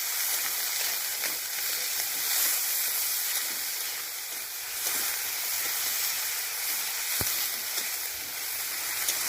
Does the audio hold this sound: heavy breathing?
no